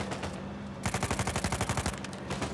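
Rapid automatic gunfire crackles in the video game Uncharted 4. A short shot comes first, then a fast, evenly spaced burst of about a dozen loud rounds, with no voice over it.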